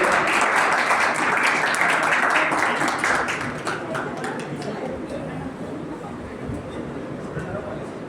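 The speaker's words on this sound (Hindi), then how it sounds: "जोरदार तालियां इन लोगों के लिए।" Strong applause from an audience at an award ceremony honouring contest winners, loud sustained clapping with crowd murmur that eases to a lower, steady level of clapping and chatter.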